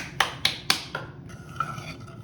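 Sugar and water stirred in a pot over medium heat for simple syrup: four sharp spoon-on-metal clinks in quick succession, then softer scraping and light tapping, close and fairly quiet.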